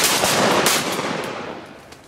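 Gunfire rings out during a hunt outdoors, a loud close burst of shots with reports that decay into fading echo.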